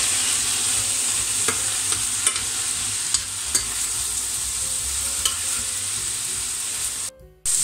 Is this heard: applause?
no